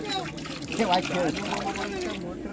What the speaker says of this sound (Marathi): पाणी आण जा पाणी टाकू जरा पाणी टाकू